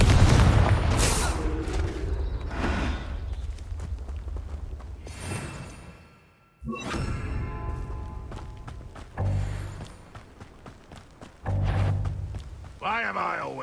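Confringo fire-spell explosions in the video game Hogwarts Legacy come as several booming blasts separated by quieter stretches of combat noise, with a brief near-silence midway.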